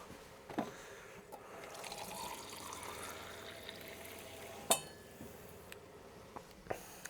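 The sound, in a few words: pouring water into camp oven pasta bake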